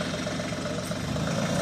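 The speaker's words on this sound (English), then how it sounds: "on her tractor." A tractor engine runs steadily nearby, a loud even idle-like rumble with a rapid low-pitched knocking pulse throughout and no voices.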